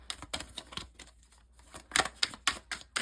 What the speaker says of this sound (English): I will shuffle them a little bit again here